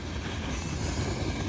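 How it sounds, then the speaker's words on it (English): A grain unit train pulled by two locomotives rolls past, a steady rumble of wheels and rail noise with faint metallic squeal throughout. "Generally, there are two locomotives that are needed to move this grain train."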